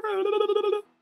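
A voice imitates a ringing bell with one sustained, tonal, slightly wavering ring lasting under a second, close and clear, before it cuts to silence.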